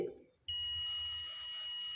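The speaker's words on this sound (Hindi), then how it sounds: "जो आपकी कॉइल होगी उसमें आपको बीप की आवाज़ मिलेगी।" A multimeter on continuity mode gives a steady, sustained high-pitched beep while testing an inductor coil from an LED bulb circuit, starting abruptly after a brief clunk of the probes and holding for well over a second, close and clear.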